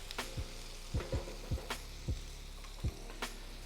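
Onions and mushrooms sizzle steadily in a hot pan, a continuous frying hiss punctuated by about eight regular utensil scrapes and taps as they are stirred, close and moderately quiet, with no talking.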